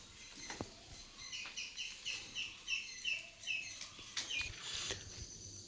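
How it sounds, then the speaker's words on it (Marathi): Birds call in a Konkan forest at morning, a soft series of short, repeated chirps coming in a regular rhythm, faint and somewhat distant over quiet background hiss. "या साईडला सगळं पक्ष्यांचा आवाज येतोय मस्त मस्त रानामध्ये बसलेले."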